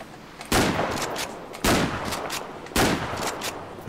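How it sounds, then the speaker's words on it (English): Three evenly spaced, booming blasts from a pump shotgun in GTA 5 with a realistic gun sound mod, each shot followed by a short decaying echo. "Let's go into the shotguns. Start from the pump shotgun."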